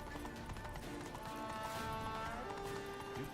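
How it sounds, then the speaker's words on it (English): Steady rhythmic hoofbeats of a galloping horse in The Witcher 3: Wild Hunt, Blood and Wine, with a synthetic game-like quality, over a dense bed of continuous sound. "Another horse."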